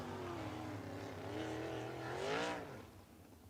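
Sprint cars run hot laps on a dirt track at a USAC Sprintacular at Lincoln Park, engines heard faint and distant, rising and falling in pitch as they rev through the turns, with no talking.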